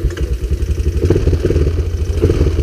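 A Honda Recon 250 ATV engine fires up and runs at a lumpy idle with the choke set, its loud close putter steady and clattery with no voices.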